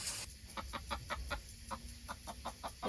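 A hen flock clucks close by in an evening Mediterranean farmyard, a run of short, evenly spaced clucks over a low outdoor hum.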